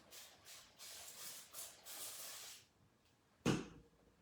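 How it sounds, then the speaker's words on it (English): A series of soft hissy spray bursts, about five quick pumps in a row, followed after a pause by a sharper knock or clatter. "Spray it with some water."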